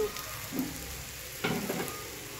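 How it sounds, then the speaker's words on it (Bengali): Spices and vegetables fry in white oil for tomato rice, giving a soft, steady sizzle with a couple of brief scraping stirs in the pan, fairly quiet and close. "তো মশলাগুলো বেশ ভাজা ভাজা হয়ে গেছে সবজির সঙ্গে।"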